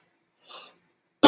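A soft breath, a short pause, then one sharp, loud cough bursts out close by at the end.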